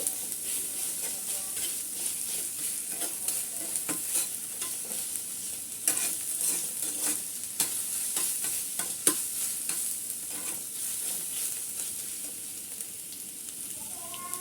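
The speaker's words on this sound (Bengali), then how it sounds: "আমি এখানে আদা রসুন বাটা দিয়ে দিলাম আমি এক চামিচ আদা রসুনটা আমি একটু মশলার সাথে একটু ভেজে নিচ্ছি" Ginger-garlic paste frying with spices in a pan for chicken rolls, a steady bright sizzle with occasional stirring scrapes throughout, no talking.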